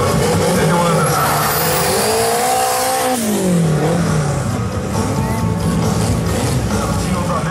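Turbo drag racing cars at a drag racing festival make a loud, continuous engine roar with a rising then falling pitch sweep as a car passes, and tire squeal mixed in throughout.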